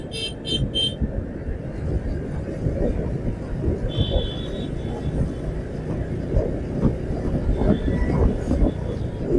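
Metro train running on an elevated track above a street at Uttara, a steady rumbling roar of wheels and traffic with brief high squeals, heard from nearby.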